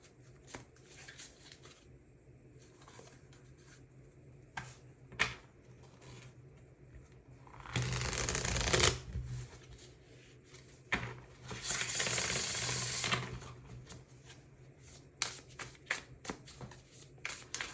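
Tarot and oracle cards, including a Light Seer Oracle deck, shuffled close up: quiet taps and flicks, then two bursts of riffling around a second or more each, with softer handling between.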